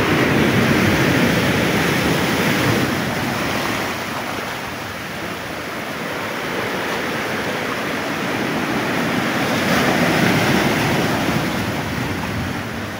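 Floodwater rushes during Typhoon Kristine in Surigao City, a loud, unbroken roar of churning water mixed with strong wind buffeting the microphone throughout.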